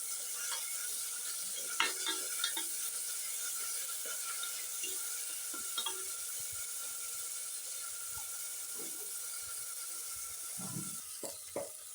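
Onion garlic paste and ground spice fry in a pan for a kurma, a faint, steady sizzle and hiss heard close, with occasional light scrapes and taps of a spoon.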